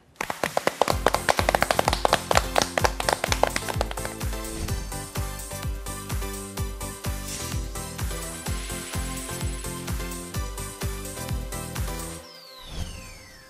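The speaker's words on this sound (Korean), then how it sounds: "지금부터 박수로 청해 드릴까요?" A studio audience for a Korean real-estate law lecture claps in a steady, regular beat to welcome Professor Jo Seong-jae. The sharp claps start loud and ease off slightly over the span, with a tonal backing underneath.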